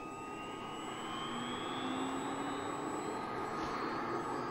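CH-47D Chinook helicopter turbines and rotors in Microsoft Flight Simulator, a steady whining engine roar with a slowly rising tone, loud and continuous with no talking.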